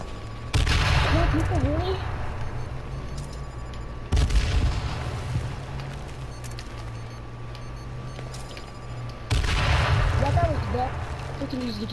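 Pistol gunfire in the battle royale game H1Z1, sharp reports landing at about 0.5, 4 and 9 seconds, each followed by a loud burst of noise over a steady game background hum.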